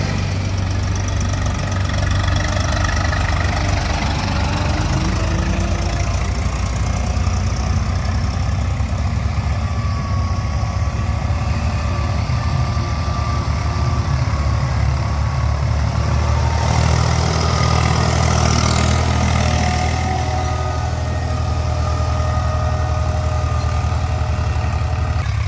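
An old tractor engine idles steadily on flood-levelled farmland at the Haryana border, a loud, close, continuous low knocking rumble with no talk over it.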